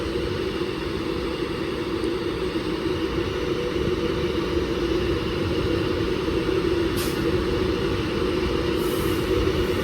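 Class 390 train at Wigan North Western station: a steady, loud electric-train drone with a continuous rumble and hum filling the whole stretch, with no talking.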